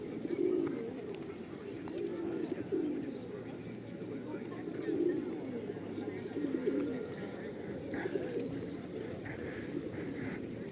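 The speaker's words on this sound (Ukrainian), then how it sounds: "І голуби." Pigeons coo in low, repeated murmurs close by in a town centre, a soft rolling rhythm that carries on steadily over faint outdoor background noise.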